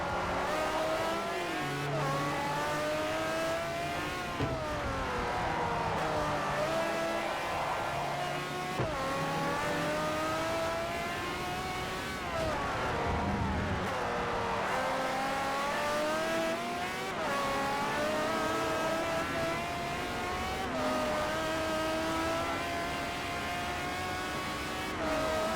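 A race car engine revs hard and shifts repeatedly while driving the Nürburgring in the video game Forza Motorsport 4, pitch climbing and dropping through the gears with occasional tire squeal, loud and continuous.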